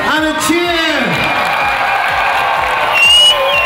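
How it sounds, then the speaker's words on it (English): An audience at the FIRST LEGO League European Championship 2012 in Mannheim applauds and cheers, a dense sustained roar of clapping and shouts with a voice speaking over it near the start. "A massive round of applause and a cheer!"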